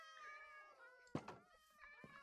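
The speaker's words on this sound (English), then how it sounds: "So we got a black cat." A black cat in Minecraft lets out drawn-out, wavering meows over a faint background hum, with a couple of soft thumps in between.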